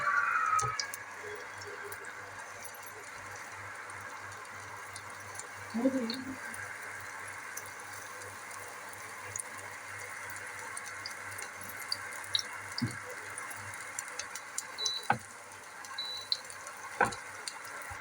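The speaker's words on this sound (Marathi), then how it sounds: "तेल टाकलेलं आहे फ्राय आणि तिकी टाकून घेऊया" Potato tikki patties frying in oil in a frying pan over medium gas flame, a steady low sizzle with occasional clicks and taps as they are placed, a voice talking over it.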